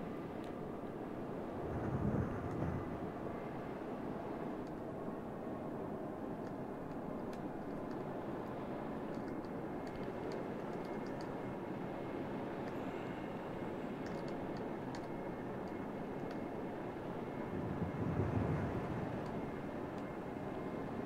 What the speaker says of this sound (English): Torpedo bombers on the way, too.